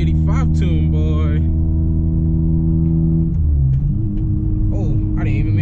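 A car on a new E85 tune pulls hard under acceleration, its engine a loud, steady rumbling drone that climbs in pitch through the gear, with a brief shift around the middle.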